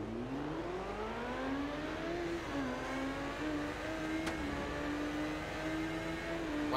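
Triumph Speed Triple motorcycle in the racing game Ride 2 at the Nürburgring, its combustion engine revving steadily with rising pitch, a continuous loud drone with gear shifts, alone without talk.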